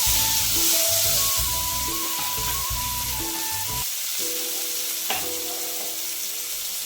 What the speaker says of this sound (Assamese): আৰু পিঁয়াজ জলকীয়া এয়া ভাজি ল'ম অকণমান।